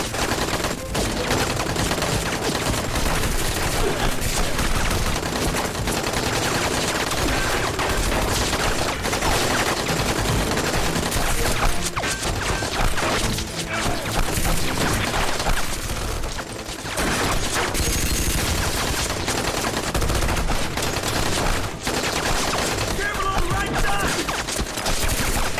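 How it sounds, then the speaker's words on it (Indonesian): Heavy gunfire in a film battle scene, continuous bursts of automatic and rapid shots overlapping into a dense, loud barrage that barely lets up, with clattering mechanisms underneath. "Dan mereka diserbu tembakan."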